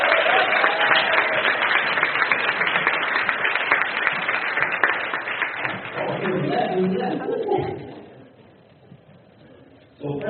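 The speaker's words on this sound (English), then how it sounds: "Let's clap it up." Audience applause for a guest on a live podcast recording, a broad burst of clapping that carries on for several seconds, then gives way to talk and background voices before fading out.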